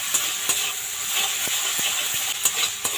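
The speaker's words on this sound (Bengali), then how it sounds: "দিয়ে মশলাটা এবার একটু ভালো করে কষে নেব।" Spice mix with salt, turmeric and ginger-garlic paste frying with boiled small potatoes in a pan, a soft steady sizzle and hiss with several sharp spatula taps close by, no talking.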